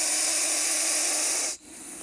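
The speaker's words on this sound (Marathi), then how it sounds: "भयंकर चिडलेला असा कुकरच्या शिट्टीसारखा आवाज करणारा हा आपल्या भागातील एक विषारी" An agitated Russell's viper hisses loudly and continuously like escaping steam from a pressure cooker whistle, close and harsh, cutting off abruptly near the end before fainter noise resumes.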